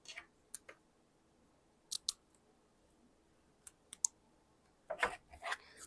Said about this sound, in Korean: 4줄의 모루를 가지고 와 주셔서 요거는 반으로 잘라줄 거예요